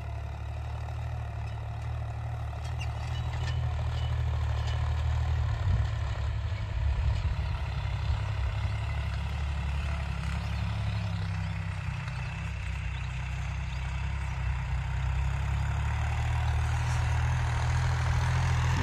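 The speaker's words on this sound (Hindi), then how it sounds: "खेत बहुत ज्यादा गीला, धान का खेत है और पलेवा हो चुकी है इसमें, इसलिए थोड़ा ये ट्रैक्टर दबता है।" Massey 245 DI tractor pulling a cultivator through a wet, puddled paddy field, its diesel engine a steady low rumble that holds evenly throughout with no talk.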